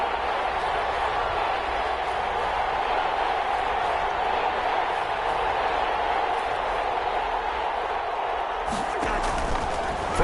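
A football stadium crowd at a Vikings vs Lions game roaring steadily ahead of a big third down, a dense, continuous wall of cheering noise with a commentator talking over it.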